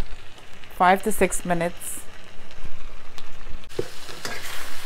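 Bake dough for bake and saltfish frying in oil, a steady sizzle and bubbling that runs throughout, with a voice talking over it near the start.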